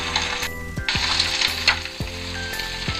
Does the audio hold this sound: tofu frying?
yes